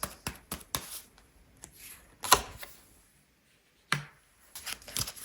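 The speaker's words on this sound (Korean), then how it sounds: "카드 뽑아볼게요." Tarot cards are drawn and shuffled close by: quiet, crisp snaps and flicks in irregular bursts, a sharper slap in the middle, a brief silent gap, then more rapid card clicks.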